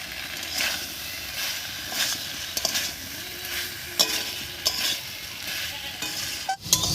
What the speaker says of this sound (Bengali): টমেটো দিয়েও একটু কষিয়ে নিয়েছি, আর টমেটোটা বেশ একটু গলা গলা মতো হয়ে গেছে